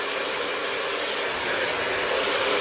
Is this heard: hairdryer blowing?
yes